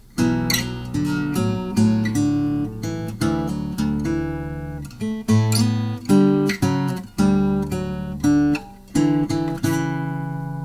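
An acoustic guitar plays a short section of plucked notes and chords in phrases with brief pauses, clear and close, with no voices.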